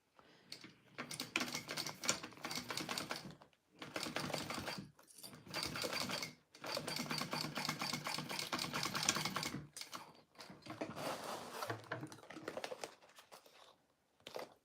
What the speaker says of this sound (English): I am sewing these box corners at a 1/4 inch seam allowance